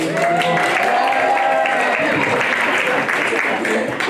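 An audience applauds at a public juggling show in Hawaii, the clapping dense and steady across the whole stretch, with voices mixed into the crowd noise.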